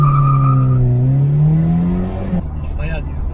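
A Volkswagen Golf 1 GTI without power steering revs with a loud, rising engine note up close, then cuts to a brief burst of tire squeal and lighter road noise.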